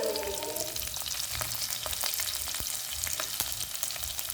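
Cumin seeds, mustard seeds, chopped onion pieces and garlic sizzle loudly in hot oil for a Telugu dal curry, while a spoon scrapes and stirs through the pan. The sizzle holds steady throughout, with occasional sharp pops and clinks and no talking.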